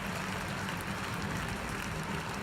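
Crowd applauding at a men's bouldering final in Innsbruck, a short burst of dense, steady clapping from a large audience, heard alone without commentary.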